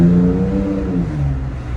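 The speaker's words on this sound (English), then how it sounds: "loud exhaust right there. Oh," A 2019 Toyota Tacoma TRD Pro pickup with an MBRP aftermarket exhaust revs loudly and up close, its deep rumble rising and then easing off over about two seconds, with no talking over it.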